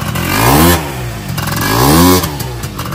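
A 70cc motorcycle engine idles and revs in two rising swells, with a rattling clatter from a noisy kick-start arm with a worn bushing riding over the close, steady engine note.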